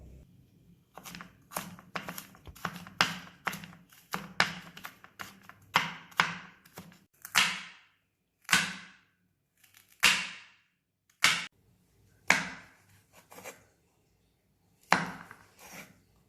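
A knife chops garlic, scallions and sausages on a cutting board for fried rice, sharp close taps coming in quick runs at first, then slower, spaced single cuts that ring briefly.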